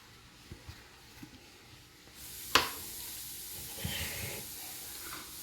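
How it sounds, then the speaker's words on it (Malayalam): Tomatoes and green chillies sizzling in a pressure cooker: a sudden, steady hiss of frying starts partway through, with a sharp splash as the ingredients go in, over faint kitchen clatter. "ഇതിലേക്ക് നമുക്ക് നമ്മളുടെ തക്കാളി രണ്ട് പച്ചമുളകും കൂടി ഉള്ളത് ചേർത്ത് കൊടുക്കാം"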